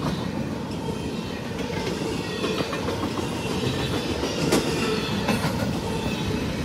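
A southbound CSX freight train of empty flatcars rolls steadily past nearby, its wheels clattering rhythmically over rail joints amid a constant rumbling roar, with an occasional faint squeal.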